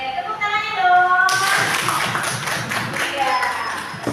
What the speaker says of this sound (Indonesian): tepuk tangannya dong